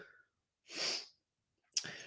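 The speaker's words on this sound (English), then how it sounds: "I just started sneezing for no reason." A person sneezes: a short breathy intake, then a sharp forceful sneeze burst, followed by another abrupt sneeze-like burst with a quick tail, close and fairly quiet with no talking.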